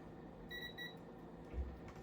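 A short electronic multimeter continuity beep sounds twice in quick succession, thin and steady, over a low background hum, while testing a PL259 connector on RG58 cable.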